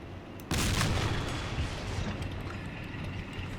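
An ISU-100 tank gun fires in Men of War, one sudden heavy boom followed by a long rumbling roll that fades slowly.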